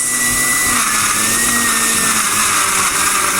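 A blender runs continuously and loudly at close range, whirring steadily as it blends potato, lemon and cucumber.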